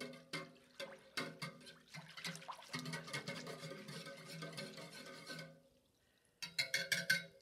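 A whisk stirs a few drops of aniline bluing through water in a bowl, making a burst of liquid sloshing and splashing that runs for several seconds, pauses briefly, then starts up again, close and without talk.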